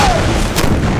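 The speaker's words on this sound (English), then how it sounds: "up to 220 cannon blast the southern defenses from the land" Cannon artillery fire bombarding Vicksburg during the siege, a loud continuous roar of blasts and rumbling booms with one sharper report near the middle.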